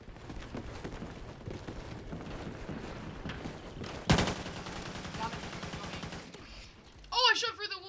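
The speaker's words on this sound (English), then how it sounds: "Oh, I shot through the wall like a boss." Gunfire in the Call of Duty Ghosts video game, a rapid rattle of shots under game noise with one sharp loud burst midway, followed by quieter effects.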